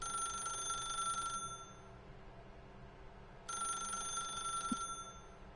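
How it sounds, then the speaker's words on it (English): Telephone ringing in the game The Stanley Parable, two bright electronic bell rings separated by a short pause, clear and fairly close against a quiet room hum with no talk. "Somebody stop the phone from ringing."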